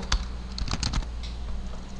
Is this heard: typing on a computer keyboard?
yes